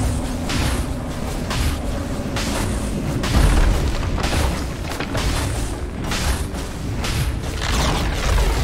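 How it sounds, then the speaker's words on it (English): A Dota 2 tower being destroyed: a series of deep, heavy booms pounding in close succession over a constant loud rumble of battle, with no talk. "Radiant's top tower has fallen."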